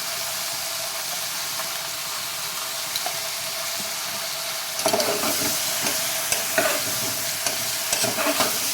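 Chana dal frying in a pan with salt and turmeric, a steady loud hiss of sizzling oil with spatula scrapes and stirring clatter joining about halfway through.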